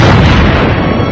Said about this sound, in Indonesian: Kapten Ri sengaja menjatuhkan sepeda motornya lalu menembaki hingga meledak.